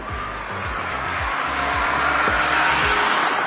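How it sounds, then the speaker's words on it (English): A Tata Punch three-cylinder engine revs hard from inside the car, its pitch repeatedly climbing and dropping with gear changes over a high whine and steady road noise. "you'll also hear a whine from the engine bay."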